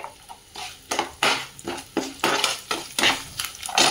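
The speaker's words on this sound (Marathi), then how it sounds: "आणि आपला राईस त्यात ह्या राईसला आपण छान मिक्स करून घेऊया." Spoon scraping and clinking against a pan while lemon rice is mixed, a steady series of sharp metallic knocks and scrapes at close range with no talk.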